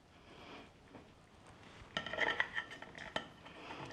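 Chicken piccata and spaghetti are plated, with light clinks and scrapes of cutlery against dishes, several quick taps clustered together and one sharper clink, close and quiet with no voices.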